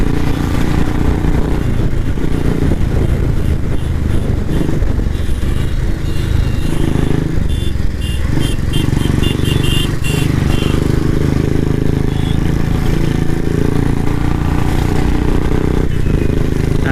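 Royal Enfield Thunderbird 350 and Bullet Classic 350 motorcycles race on the road, their engines droning loud and continuous with rough, rising and falling revs and wind buffeting throughout.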